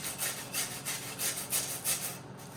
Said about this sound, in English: he's cleaning them up with a wire brush and a little bit of sandpaper